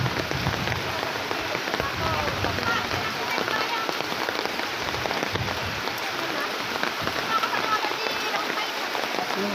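Heavy rain pours steadily beside a swollen creek behind a house, a dense, even roar of drops on surfaces, with some rushing water underneath.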